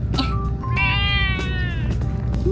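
A cat on Ogijima, a cat-filled Japanese island, gives one drawn-out meow that rises and then falls, clear and fairly close, over steady outdoor background noise.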